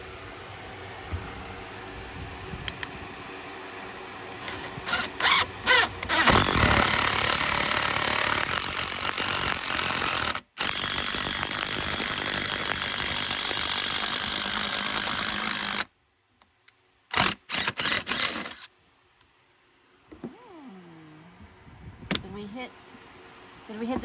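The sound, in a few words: drilling a 1-inch hole in wood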